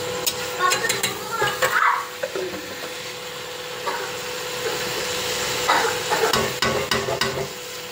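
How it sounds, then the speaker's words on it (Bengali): Chicken being stirred and fried in a pan, with scraping and clattering of a spatula against the pan over a steady sizzling background, moderately loud and continuous with intermittent knocks. "তারই মধ্যে দিলাম চিকেনগুলোকে ঢেলে দিয়ে এইবারে ভালো করে নাড়িয়ে চাড়িয়ে কষাতে লাগলাম।"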